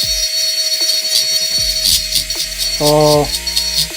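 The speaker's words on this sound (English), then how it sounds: "I'm using something here called a micro motor" A micro motor rotary carving tool runs close by with a steady high whine, shifting and rattling as it bears on the carving, with a brief louder tonal burst midway.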